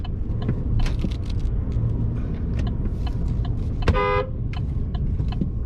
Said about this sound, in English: That was a friendly honk.